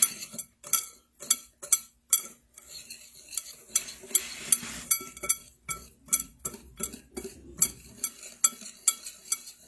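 Seasoning mix of garlic powder and black pepper being stirred with cutlery in a bowl, a quick run of sharp, rhythmic clinks and scrapes repeating close up, steady and alone without talk.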